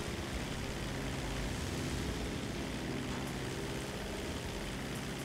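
A propeller airplane engine drones steadily during takeoff in Grand Theft Auto V, a broad, constant roar at moderate level with no talk over it.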